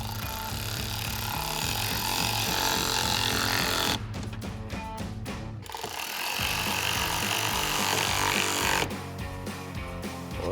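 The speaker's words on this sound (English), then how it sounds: "Now we'll bring back our T20 Torx bit and tighten these down." A power driver with a T20 Torx bit tightens screws on a 2020-2026 Sierra 2500 fender lens, running in close, buzzing bursts broken by a couple of brief stops.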